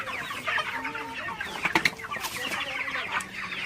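Broiler chickens cluck and chatter in a dense, overlapping flock at close range, with a few sharper calls rising above the steady murmur.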